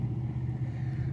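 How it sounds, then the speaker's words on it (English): Low, steady rumble of road traffic passing nearby outdoors, a continuous engine drone with no breaks, fairly loud and close throughout. "sorry about the car noise here"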